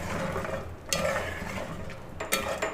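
Potatoes and lentil wadiyan are stir-fried in a pan, with a soft continuous sizzle and scraping spatula strokes against the metal, close and steady.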